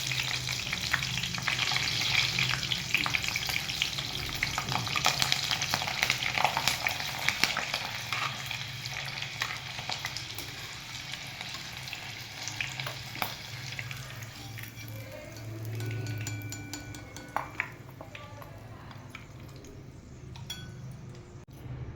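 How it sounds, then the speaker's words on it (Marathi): Green chilies deep-frying in hot oil for a Marathi fasting nugget recipe, a steady dense crackling sizzle with scattered sharp pops and a few light clinks, fairly close and continuing unbroken with no voices. "आपण याच्यात आहे मिरची पण तळून घेऊ"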